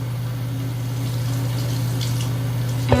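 Water runs steadily from a faucet onto a Wet n Wild makeup brush over a sink drain, giving an even, close rushing flow with a low hum under it and a short knock at the end.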